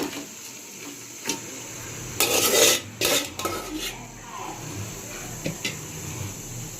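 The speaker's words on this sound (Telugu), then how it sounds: "చికెన్ వేసుకున్న తర్వాత అన్నీ కలిసేటట్టు కలుపుకోవాలి." A spoon scrapes and clatters inside a pot as chicken is stirred into homemade chicken biryani, with a dense burst of mixing in the middle, scattered taps before and after, and a faint sizzle underneath.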